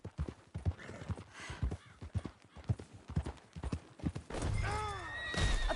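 Horse hooves clip-clop in a steady trotting rhythm in Red Dead Redemption 2, followed by a loud, close whinny near the end.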